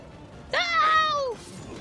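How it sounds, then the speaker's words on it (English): A single drawn-out yelping bark from a dog in the video game Dragon Age: Origins rings out for under a second over a quiet background. "Puppies."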